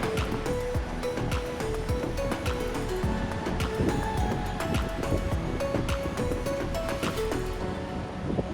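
Ocean waves wash onto the beach at the Cape of Good Hope, a steady loud surf roar with wind buffeting the microphone throughout.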